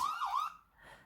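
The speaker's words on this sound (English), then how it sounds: "Very good, the ambulance." An ambulance siren wails with a rising and falling tone for about half a second, loud and close, then fades into quiet. No one speaks.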